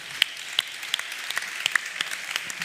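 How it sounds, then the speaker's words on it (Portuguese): An audience at a national meeting applauds, a dense wash of clapping with a few sharper, louder claps standing out; steady and fairly close, with no talking over it. "Salva de palmas para os resistentes,"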